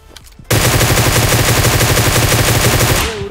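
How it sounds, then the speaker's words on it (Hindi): A long, loud, unbroken automatic burst in a PUBG Mobile match kicks in abruptly and hammers on at an even fast rhythm for nearly three seconds before fading out, close and alone with no talking. "तो मुझे अचानक से नीचे से गोलियों की आवाज आती है"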